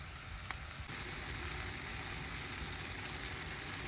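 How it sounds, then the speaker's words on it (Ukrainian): Milk hits a hot frying pan of cut bread with a faint tap, and a steady soft sizzle follows and continues evenly. "Зверху вливаємо молоко"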